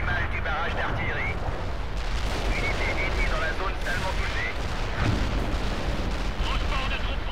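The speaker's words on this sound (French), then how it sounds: "Je fais pleuvoir les obus sur la zone." Relentless artillery shelling from the World in Conflict battlefield, explosions and gunfire pounding continuously and loudly with no pause, while radio-style voices chatter underneath.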